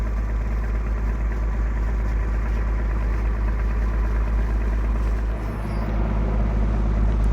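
Steady low diesel drone of a passenger launch engine on the river near Gangasagar, a continuous near rumble with constant loudness and no speech throughout.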